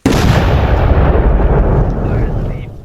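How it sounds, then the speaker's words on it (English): A custom-built explosion in a video game erupts as one loud, dense blast that booms and rumbles continuously for nearly three seconds before tapering slightly at the end, with no voices over it. "That's how you make a custom explosion."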